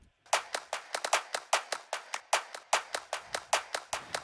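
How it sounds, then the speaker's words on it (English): Clap loop layer in an electronic music track: crisp, bright sampled claps repeating in a steady syncopated rhythm, two to three hits per beat cycle, dry and close with no voices. "And then here comes a clap loop on top of it."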